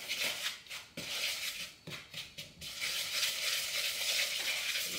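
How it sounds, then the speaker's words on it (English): Butter is chopped and cut into a crumble mix for organic blueberry muffins, giving soft, quiet scraping and crumbly rubbing noises in uneven bursts, broken by a few short pauses. "Chopping, cutting the butter until it turns crumble."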